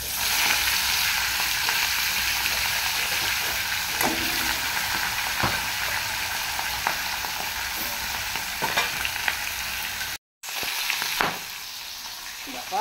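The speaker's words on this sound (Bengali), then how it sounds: "ওর মধ্যে মাছের মাথাটা ভেজে নেব।" Fish heads fry in hot oil in a wok, giving a dense, continuous sizzle that stays loud and even throughout, with a few faint clicks and a brief dropout near the end.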